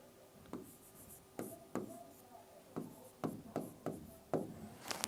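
Marker or chalk writing fractions on a board during a maths lesson: a run of close, dry taps and short scratchy strokes, irregularly spaced, heard alone in a quiet room.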